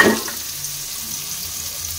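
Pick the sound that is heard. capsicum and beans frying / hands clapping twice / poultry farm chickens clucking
capsicum and beans frying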